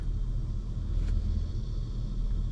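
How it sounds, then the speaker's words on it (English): A car on a fast rural road where traffic runs around 70 passes by as a steady, distant low rumble that swells only slightly, with no voices over it. "Sounds like a car coming from the left"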